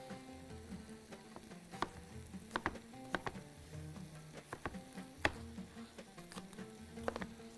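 Green pepper sizzling and frying in a pan during preparation of a Bahraini chicken stew, with a steady crackling hiss broken by sharp spattering pops and occasional clatter of stirring, fairly close.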